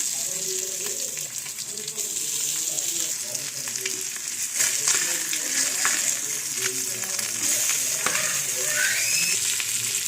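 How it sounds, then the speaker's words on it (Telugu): Fish pieces, turned to their second side, fry in hot oil in a pan, giving a steady, loud, close sizzle throughout with faint scraping and stirring sounds on top. "తర్వాత దాన్ని ఉల్టా చేసుకొని మళ్ళీ ఒక సైడ్ వేయించుకోవాలి నూనె"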